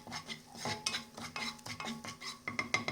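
A utensil scrapes and clinks against a pan while stirring a flour, butter and milk white sauce for pasta, with a rhythmic series of close metallic knocks and a faint sizzle beneath.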